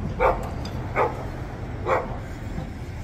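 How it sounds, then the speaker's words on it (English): A dog barks three times, in short sharp woofs about a second apart, moderately close, over a low steady background rumble near a police encounter outdoors. "That dog wants a piece, dude"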